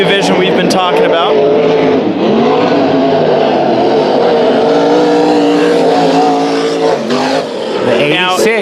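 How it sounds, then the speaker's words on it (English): Race Saver sprint cars roar around the oval at Bakersfield Speedway, engines loud and close as they rev and sweep past, with a track announcer talking over the din throughout. "Race Saver Sprint Car."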